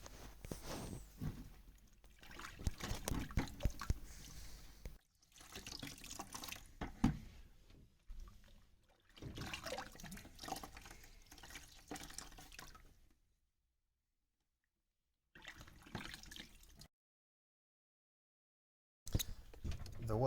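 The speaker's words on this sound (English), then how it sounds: "it's time to get a sponge in there and start getting the dirty water out now." Wet squelching and trickling water come in several bursts separated by pauses as a sponge soaks dirty water out of a blocked washing machine drain, with dripping and splashing close up.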